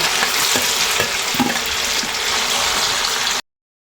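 Tofu (tokwa) frying in a pan for lumpiang togue, a loud steady sizzle with a few soft clinks and stirring scrapes, running without pause for about three and a half seconds before cutting off.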